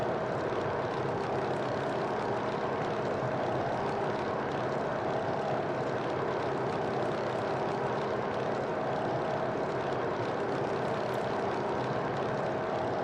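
Grumman F3F propeller plane in a flight simulator, its engine droning steadily and loudly throughout with a broad, even roar and no talk.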